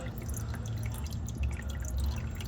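Engine oil draining from the oil pan of a 2003 Chrysler Town & Country with a 3.8L V6, a steady close pouring trickle with dripping, alone and without talk.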